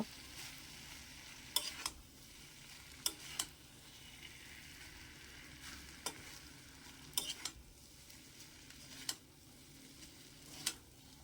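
Rice chowmein with egg stir-fried over raised heat, a quiet steady sizzle punctuated by sharp clacks of the spatula against the pan every second or two.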